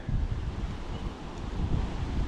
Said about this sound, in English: She's getting a bit windy.